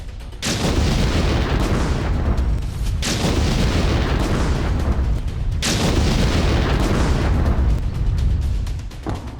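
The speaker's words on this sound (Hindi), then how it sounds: "जहां 16 दिनों से धरती फाड़ धमाके हो रहे हैं" Explosions and artillery fire in war-torn Bucha come through as heavy, sustained roaring booms, with three long loud surges separated by brief dips.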